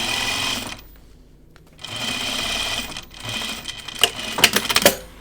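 Sewing machine back-stitching on jeans, running in short bursts with pauses between, then a few sharp clicks and taps near the end.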